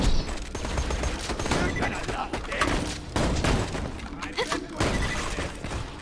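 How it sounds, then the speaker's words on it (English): Rapid bursts of gunfire and shattering impacts from a firefight in the video game Borderlands 2, repeating densely through the whole stretch under game noise. "How did I get two shots off on that?"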